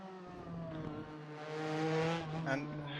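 A Porsche RSR race car engine in the RaceRoom video game drones at steady high revs, its pitch rising slightly then easing, smooth and continuous with no gear changes.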